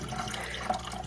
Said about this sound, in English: I get a cup of the tank water and just slowly pour it into here